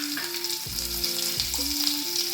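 Ginger, curry leaves and green chili fry in oil, giving a steady close sizzle under a tonal hum that shifts in pitch.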